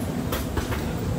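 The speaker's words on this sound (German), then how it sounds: "So, ganz schicker Zug." Riding inside a carriage of the new Tren Maya passenger train in Mexico brings a continuous rumbling roar, with rhythmic clickety-clack from the wheels over the rails, loud and close, with no one speaking.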